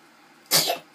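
A single short, breathy burst from a small child in a bathtub, a brief sneeze in a quiet, slightly echoing room.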